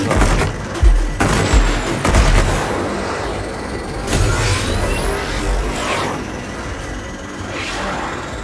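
Gunfire and booming blasts in the Spider-Man 2 video game, sharp loud shots and bursts in the first seconds, then heavy rumbling explosions and scattered fire tailing off under busy game noise.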